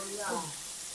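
Tape goreng, battered fermented cassava, frying in hot oil, giving a short steady sizzle with a brief voice over it.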